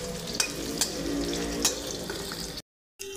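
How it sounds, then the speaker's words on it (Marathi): Two onions fry in hot oil, a steady close sizzle broken by a few sharp stirring clicks, then a brief cut to silence before the frying resumes. "तेलामध्ये हे कांदे आपण फ्राय करून घ्यायचे आहेत"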